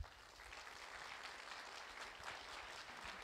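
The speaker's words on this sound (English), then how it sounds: "So one last round of applause" A church congregation applauds children on a Sunday morning, a faint but steady wash of clapping that runs unbroken throughout with no voices.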